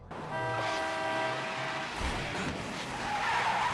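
A car speeds through a parking lot in the film Twilight, with loud, steady tire skidding and engine roar that swell over a few seconds and carry a movie score underneath.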